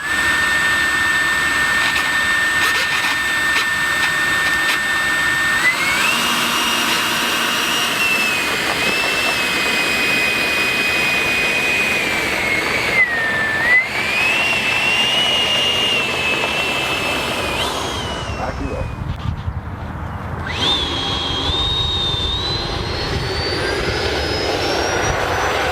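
An FMS Rafale RC model jet on its maiden flight whines loud and continuous, the pitch climbing and shifting as it passes, with a brief dip near the end.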